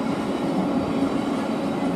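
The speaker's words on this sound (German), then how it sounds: "Und gleich haben wir dann die beiden TXL-Loks," Two TXL freight locomotives pass at Kufstein with a continuous close rumble and faint clickety-clack of wheels on rail, heard alone without talk.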